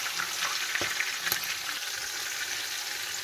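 Mutton for nihari frying in a pot with salt, a steady close sizzle running throughout with a couple of brief stirring knocks and no talk.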